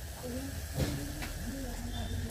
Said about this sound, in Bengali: তো এই ডিমটা ও ভেজে নিল